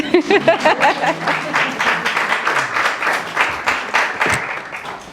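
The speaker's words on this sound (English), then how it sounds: "Oh, you can clap." Audience clapping at a conference convening on financing Africa's future, a dense sustained patter of many hands with voices talking over it throughout.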